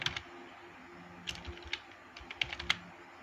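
Clattery keystrokes on a computer keyboard while entering text in MS Word, scattered irregular taps in short bursts with quiet gaps, close and fairly soft, no talking.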